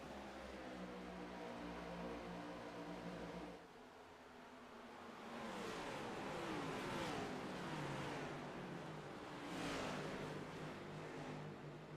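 Race car engines roar at Phoenix Raceway in the iRacing sim, a steady loud drone that surges and swells as the pack accelerates and cars sweep past one after another.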